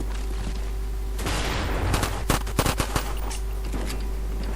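Dual MAC-11 submachine guns fire in rapid automatic bursts during a Call of Duty team deathmatch, loud and close, with rattling volleys stacked over a steady game hum.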